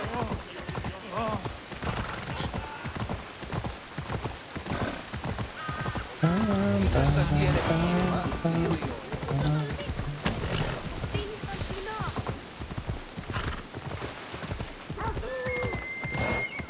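Steady clip-clop of horse hooves at a quick pace in the video game Assassin's Creed Odyssey runs throughout, with a horse whinnying midway and someone talking over it.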